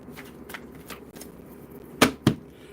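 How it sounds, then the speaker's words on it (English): Tarot cards shuffled by hand at home, a soft papery riffle of scattered short bursts, ending in two louder, sharper card snaps near the close; no talking. "Why am I having so much trouble shuffling?"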